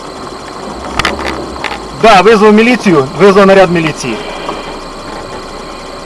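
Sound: tractor engine idling

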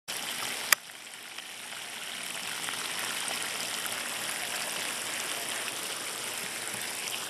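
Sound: water from garden hose watering plants

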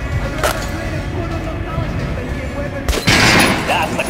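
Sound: gunfire in video game Metro Last Light Redux

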